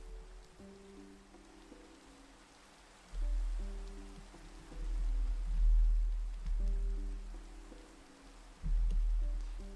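Rain falls steadily in the video game Minecraft as a soft, even hiss. Low rumbling swells rise and fall beneath it, with faint tonal game sounds mixed in.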